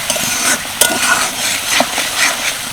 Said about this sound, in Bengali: এবার এই মশলাটা আর একবার ভালো করে কষিয়ে নেব প্রায় তিন থেকে চার মিনিট মতো